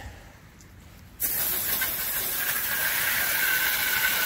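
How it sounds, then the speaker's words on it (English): A steady, loud hiss of a pressure sprayer applying a mixed cleaning solution to house siding starts abruptly after a quiet moment and continues without pause. "with a batch mix solution I'm spraying on the siding"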